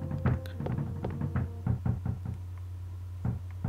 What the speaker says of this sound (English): Someone's knocking at the door.